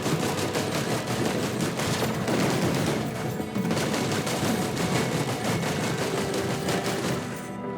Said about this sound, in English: someone has a very large gun and they are shooting me